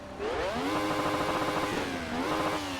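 Ferrari 312T Formula One car engine in Assetto Corsa, a loud, steady high-pitched racing engine note revving up and holding, with a brief dip and climb as gears shift, heard alone.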